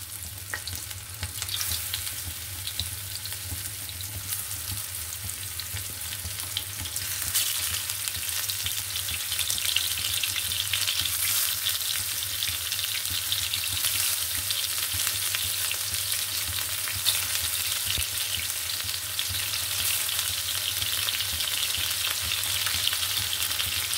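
Bitter gourds stuffed with a lentil-paste filling fry in hot oil with a steady, close crackling sizzle that grows louder after several seconds and holds evenly to the end.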